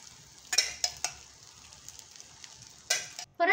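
Oil sizzling in a pan while suji veggie appe cook, a faint steady fry broken by a few sharp clinks and scrapes of a utensil, with one louder burst near the end.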